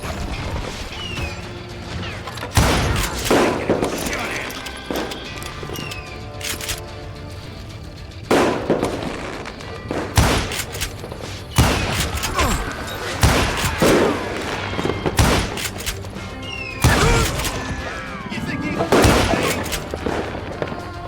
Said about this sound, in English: That's why the fireworks.